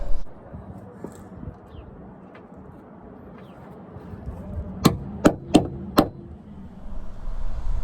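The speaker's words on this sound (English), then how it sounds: "give it a little tap with a dead blow hammer" Four sharp, evenly spaced taps from a dead blow hammer tapping clips into place on an Alfa Romeo GTV wing and side skirt ring out close by, following a stretch of quiet handling noise.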